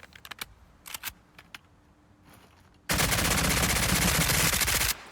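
A fully automatic rifle fires on full auto in the shooter game SCP: 5K, a loud unbroken burst of rapid shots lasting about two seconds after a few scattered clicks and handling noises.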